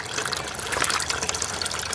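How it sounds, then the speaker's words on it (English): Water pumped in an aquaponics system gushes steadily into a distribution bucket, a continuous bright splashing rush at close range. "The water pumps in through these. All the water flows into here. It goes through into the bucket."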